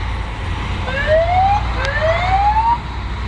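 Fire and rescue vehicle sirens wail during an emergency services training drill, two rising swept tones repeating over a steady low engine rumble, loud and fairly close.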